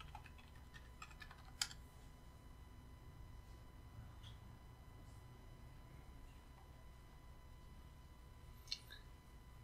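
Someone types a password on a computer keyboard, producing soft, quiet keystroke clicks in short bursts, with an occasional sharper tap against a faint steady hum.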